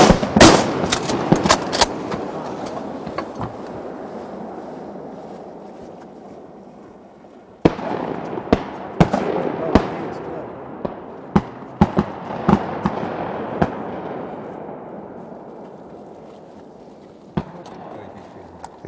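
Shotguns fire repeatedly outdoors during a quail and duck hunt, giving sharp, loud reports that come in clusters and scattered singles, each trailing off into a long fading echo.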